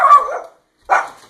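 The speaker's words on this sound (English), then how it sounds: "Dog's about to go crazy in 3, 2, 1." A dog gives two loud, close barks with a short gap between them, during a home workout, with no other sound around them.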